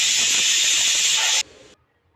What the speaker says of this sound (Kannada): ಈಗ ಒಂದು ಲಿಡ್ನ ಕ್ಲೋಸ್ ಮಾಡಿ ಒಂದು ವಿಸಿಲ್ ಬರ್ಸ್ಕೊಳ್ಳೋಣ